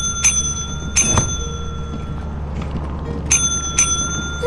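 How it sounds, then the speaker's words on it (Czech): A service bell on a shop counter in Lethal Company rung several times in sharp metallic dings, two close pairs of strikes ringing out clearly over a low steady hum. "neklikej na ten zvonek"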